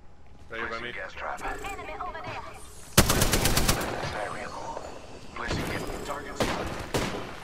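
Rapid automatic gunfire in the game Apex Legends, in a sharp loud burst midway with scattered shots around it, under excited voices talking over the action.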